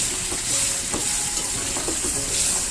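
Poppy seed paste being stirred into ridge gourd curry in a pan: a steady soft sizzle with scattered scraping and stirring clicks throughout.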